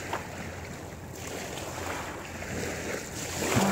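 Ocean waves roll and wash onto a shore in a continuous soft surf roar, steady and moderately loud with a gentle swell, no voices over it.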